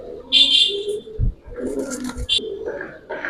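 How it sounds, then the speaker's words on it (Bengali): Pigeons coo in repeated soft throaty calls at close range on a rooftop, Giribaz birds among a flock of hens and cocks, with a voice speaking intermittently over them. "এটা হচ্ছে মাদি কবুতর"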